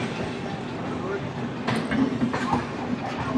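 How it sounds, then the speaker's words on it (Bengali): Howrah–Pondicherry Superfast Express pulling out of a station, a steady low rumble of wheels and carriages with faint clatter, heard from nearby on a platform amid background noise and indistinct voices. "এই দেখুন ওর দিক দিয়ে বেরোচ্ছে পন্ডিচেরি সুপারফাস্ট।"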